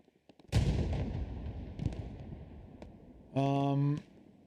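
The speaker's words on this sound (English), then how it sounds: "I can see some explosions though on the backside of point here." Distant explosions in the Hell Let Loose shooter game: one heavy blast booms and rumbles away, followed by scattered fainter thuds and a short electronic tone.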